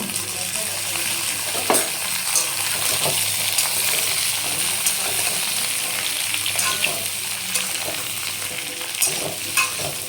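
Papaya pieces frying with potatoes in a pan, a loud continuous sizzle with intermittent stirring scrapes and clinks, close up and steady with no speech.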